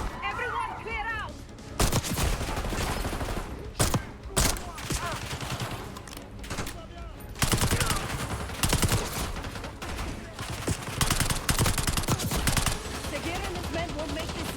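Gunfire in the Call of Duty Black Ops 6 shooter game: loud, rapid volleys of shots crack in dense bursts with short pauses, mixed with busy game noise and possible voices.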